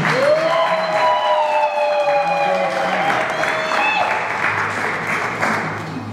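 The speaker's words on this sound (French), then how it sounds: "On peut les applaudir très fort, mesdames." Guests applaud during a wedding ceremony, sustained clapping from a crowd close by, while a siren-like wail rises and falls over it and voices mix in.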